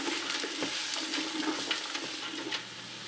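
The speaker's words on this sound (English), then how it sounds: "And we're going to mix that up and we're going to saute that for 4 to 5 minutes" Onion sautéing in a pot for minestrone, a continuous crackling sizzle broken by soft scraping strokes of a spoon stirring, close and fairly even throughout.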